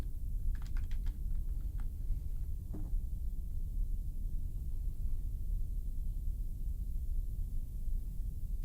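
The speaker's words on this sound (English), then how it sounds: "I can't type words." Typing on a computer keyboard: a brief flurry of light, quick key clicks near the start, then a few scattered taps fading into a steady low room hum.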